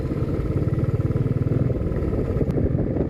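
A motorcycle rumbles steadily along a rough, dusty mountain road on the way to Lachen, its engine close and continuous with a pulsing low throb and some clatter.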